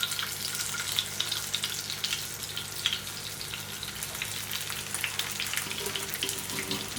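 Marinated chicken pieces frying in hot oil over a medium flame, a dense, continuous close sizzle with crackling pops scattered throughout, heard alone without any voices.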